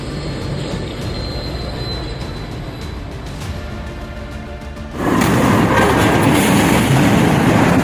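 A train rumbles past with a steady rolling roar that suddenly grows louder and denser as the cars rush by close at hand.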